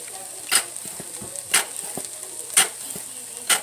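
Peppers and onion sauteing in a pan for keto sloppy joes, a steady soft sizzle with stirring, punctuated by four evenly spaced sharper bursts about a second apart.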